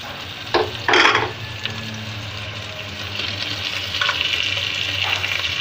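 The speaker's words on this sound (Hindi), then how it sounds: "और इसको बहुत अच्छे से भूनेंगे" Tomatoes and potato masala fry in a pan, giving a loud burst of sizzle and stirring near the start, then a steady, rising hiss of frying that continues to the end.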